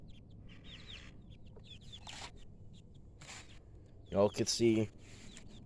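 Young chickens just growing their feathers cheep and cluck nearby in repeated short bursts, with a louder flurry of calls near the end while someone speaks briefly.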